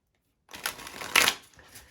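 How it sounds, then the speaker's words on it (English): Tarot cards are shuffled in two quick riffling bursts after a moment of silence, crisp and close, with no talk. "Even as I'm shuffling,"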